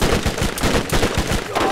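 Rapid automatic gunfire from the Borderlands video game, a dense string of close, punchy shots in quick rhythm lasting nearly two seconds, with faint voice underneath.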